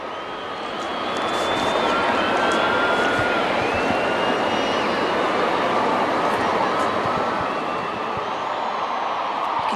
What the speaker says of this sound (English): You can hear the fans getting louder in anticipation for this matchup today.